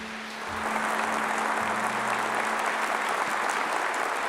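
A congregation applauds during a church sermon on marriage, dense sustained clapping from many people that swells just after the start and keeps going evenly, with a low hum running underneath.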